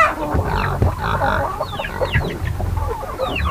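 Chickens cluck steadily and close by in a barn where the hens are housed above the pigs, with busy overlapping calls and no talking.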